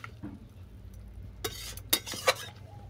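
A spoon stirs fried lentil dumplings (bori) and fried flowers in a pan over a quiet background, giving a few sharp metallic clinks and scrapes near the end.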